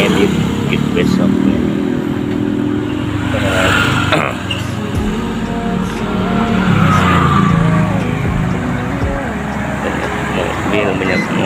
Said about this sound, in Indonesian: Mobil banyak motor